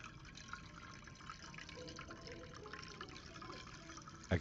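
Steady liquid pouring in the Chocolate Factory Simulator video game, a continuous watery rush that runs evenly throughout and ends with a brief soft knock.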